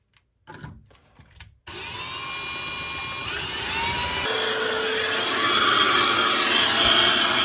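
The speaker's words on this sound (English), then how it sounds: "I hope I can drill this okay" A power drill bores into the bottom of a liquor cabinet, backed by a 2x4, with a loud, steady whine that rises in pitch as it bites, after a few brief handling knocks.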